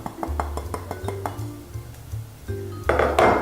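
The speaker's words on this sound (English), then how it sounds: "To this I'm going to mix in some" Soft unsalted butter and icing sugar being worked together in a bowl for shortbread, a series of close, regular clinks and taps of a utensil against the bowl with low scraping in between, louder at the end.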